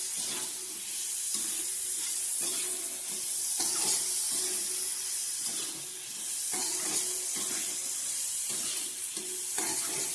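Onions fry in a pan for Konkan-style bhendi bhaji, a steady bright sizzle throughout with periodic scraping stirs of a spoon against the pan, close and continuous without talk.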